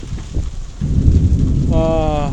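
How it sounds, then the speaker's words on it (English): Heavy sideways rain with big drops pounds down in a loud, dense roar outdoors. Near the end a brief tonal whine cuts through above the downpour. "No, it's sideways rain."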